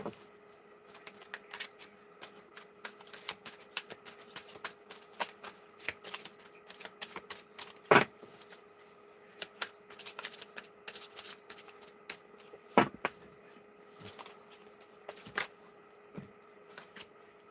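Moon oracle cards being shuffled by hand: a long, steady run of soft, rapid papery riffling and flicking, with a couple of sharper slaps, close and fairly quiet, with no talking.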